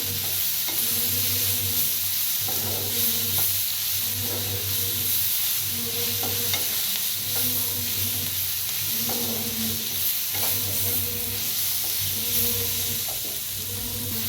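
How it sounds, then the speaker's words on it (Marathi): Spices roasting with coriander in a hot pan, a continuous close sizzle and hiss broken by regular scraping stirs of a spatula about every second. "कोथिंबीर टाकलेलं आहे ना, त्यापायी थोडंसं भाजूया।"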